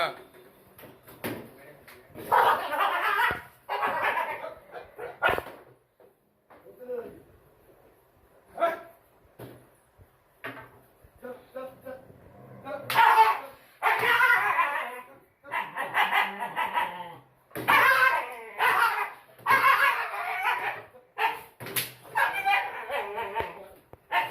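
Dogs bark and yip repeatedly in loud, irregular bursts, mixed with people talking and shouting nearby as they drive a dog out of a house.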